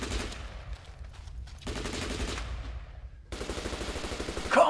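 Sustained machine gun fire from a war film battle scene, rapid bursts roaring loud and close in continuous volleys, with short breaks between sustained stretches of fire.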